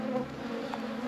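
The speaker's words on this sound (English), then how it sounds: "So we had to get away from the bees" Bees buzz continuously in a dense, steady drone, close and fairly loud, with no other sounds.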